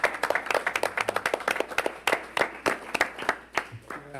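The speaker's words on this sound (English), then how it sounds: "So maybe just a round of applause for all 3 of them" A city council meeting audience applauds three students with dense, steady clapping from many hands, loud and close throughout without a break.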